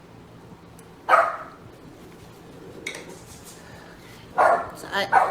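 A dog barks at a shoe in a few short bursts, separated by pauses, with indoor clatter in between.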